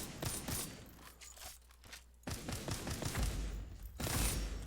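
Pistol fire from the Earth From Another Sun video game, heavy bursts of shots and mechanical clatter arriving in loud clusters with brief quieter gaps between volleys.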